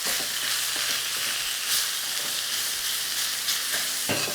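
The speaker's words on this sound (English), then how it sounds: "I'm just spreading the beef out a little bit so that it's makes sort of nice contact with the wok" Beef sizzles loudly in a hot wok as it is spread out to char, a steady close hiss with faint scraping and stirring running through it.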